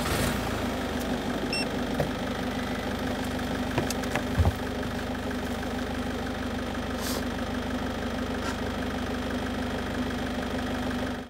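A van engine starts and settles into a steady idle, a continuous low hum with faint knocking that runs evenly and unchanged throughout, with no talk over it.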